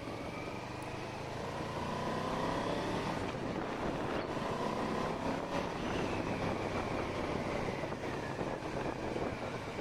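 A Yamaha Vmax 1200 motorcycle engine runs steadily on a road test, a loud continuous drone mixed with heavy wind rush against the microphone throughout.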